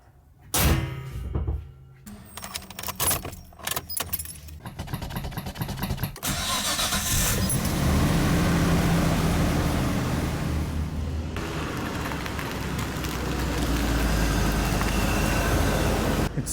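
A JDM project car cranks and fires up after a few sharp door and handling clunks, then settles into a steady, loud engine run that carries on as it pulls away, with the engine noise staying close and continuous throughout.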